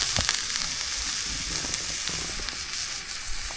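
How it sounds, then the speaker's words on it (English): Pork belly frying in a Lodge cast iron skillet under a glass lid, a loud continuous crackling sizzle with dense spitting pops, close by with no talk. "So I'm cooking right now pork belly."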